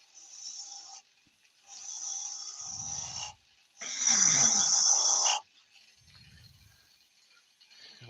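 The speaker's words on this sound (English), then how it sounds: "Negative raked scraper, just to help pull that round a bit." A negative raked scraper cuts wood on a lathe while turning a tulip-shaped drinking vessel, giving bursts of high rasping whir that start and stop, with a louder, rougher pass in the middle.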